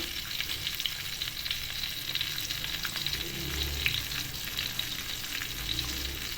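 Thai-style crispy fish sizzles in hot oil in a pan, a steady bright crackling fry that holds even and unbroken throughout with faint low clatter beneath.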